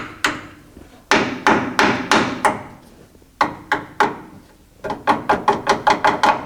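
Hammer tapping on a front brake part of a 1973 Ford F100 to loosen it: a series of sharp, ringing metallic knocks, a few slow spaced hits, then a quicker run of lighter taps, loud and close with no talk.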